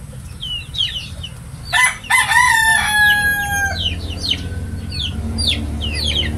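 A seven-month-old gamefowl rooster crows loudly nearby while other chickens cluck and chirp around it in a farmyard, the crow rising and trailing off over steady background hens.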